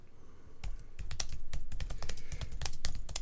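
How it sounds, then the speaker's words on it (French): Someone types a title on a computer keyboard, rapid close clicking keystrokes in an uneven rhythm, crisp and clear with no talking. "je vais pouvoir taper un premier titre"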